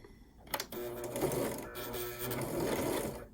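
A sewing machine stitches quilt binding on a patchwork Valentine heart, starting after a brief pause and then running in a steady, close, even whir for nearly three seconds.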